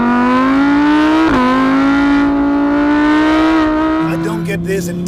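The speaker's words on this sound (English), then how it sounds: "is the high revving V10 engine" An Audi R8's high-revving V10 engine pulls hard while driving, a loud, continuous rising howl that dips briefly at one gear change before climbing again, then settles at the end.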